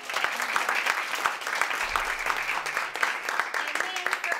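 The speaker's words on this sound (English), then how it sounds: "So let's give them a big round of applause." Steady audience applause for competitors at a 2019 Poetry Out Loud recitation contest, a continuous wash of clapping heard from within the crowd at moderate level, with no talk over it.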